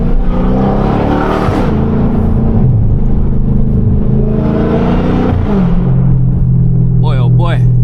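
Hellcat V8 engine cruising through downtown Charlotte streets, a steady, close, deep rumble that swells and eases with the throttle, with a voice talking over it.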